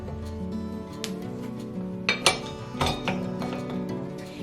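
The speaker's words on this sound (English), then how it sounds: "now we're going to take all the excess mixture off the beater blade and replace it with the dough hook" Metal kitchen tools clink and knock as sticky dough is scraped off a stand mixer's beater blade and a dough hook is fitted, a few sharp taps and clatters over a steady low hum.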